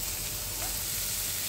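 Leftover vegetables hit a pan of sautéed onions with a soft, steady sizzle and hiss, heard close and alone for a brief moment.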